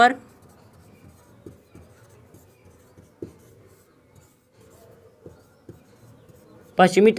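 A marker writes on a board during a Hindi geography lesson on India's coastal states, giving soft scratchy strokes at close range and ending in a brief louder squeak.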